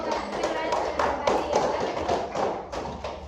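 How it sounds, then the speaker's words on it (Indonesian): A class of students claps together in a steady round of applause after a group presentation, sustained and fairly close, lasting the whole stretch. "beri tepuk tangan dulu."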